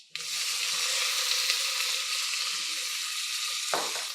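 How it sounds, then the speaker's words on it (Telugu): Tempering spices sizzle hard in hot oil for a buttermilk curry, a loud, steady hiss that holds for several seconds before a sudden stir or addition near the end. "చూసారా, పోపు వేగుతోంది హాయిగా"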